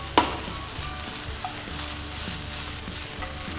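Prawns are tipped into hot masala in a pan and stirred. A sharp clatter as they drop in gives way to a steady, loud sizzle, with scraping stir strokes recurring underneath.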